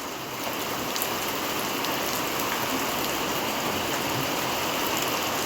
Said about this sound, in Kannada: ಮಳೆನೂ ನಿಂತು ನಿಂತು ಜೋರಾಗಿ ಬರ್ತಿದೆ